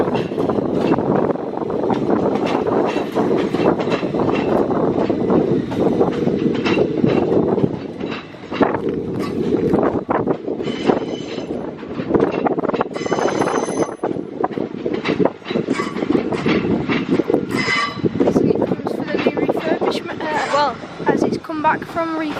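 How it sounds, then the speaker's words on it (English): An Avanti West Coast Class 805 train pulls into Crewe station, a steady rumbling rail roar with brief wheel squeals, heard close over constant background noise, with a voice speaking over it. "As in it comes in its new Avanti West Coast."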